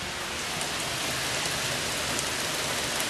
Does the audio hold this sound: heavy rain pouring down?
yes